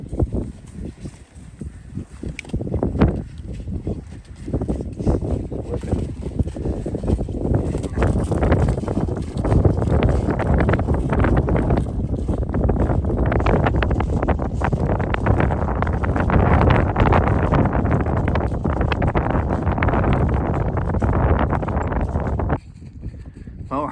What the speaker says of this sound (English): It is pretty cold, pretty windy.